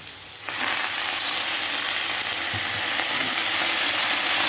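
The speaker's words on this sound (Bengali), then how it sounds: "এবার আমি মেথি শাকটা দিয়ে দেবো।" Fenugreek leaves drop into hot oil in a pan and a loud, dense sizzle suddenly rises, then holds steady and close, with a brief knock of stirring partway through.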